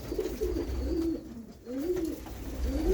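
Pigeons coo in low, rolling calls inside a pigeon loft, two or three drawn-out phrases close by, with a steady background murmur.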